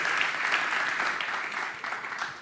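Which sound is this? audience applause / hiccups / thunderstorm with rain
audience applause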